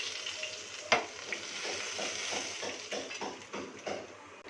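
Fish pieces frying in hot oil in a kadai for an Odia fish-head ghanta recipe, giving a steady close sizzle and crackle with soft stirring scrapes throughout and one sharper clink near the start.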